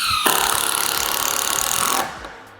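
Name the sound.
power tool driving screws into metal fence panel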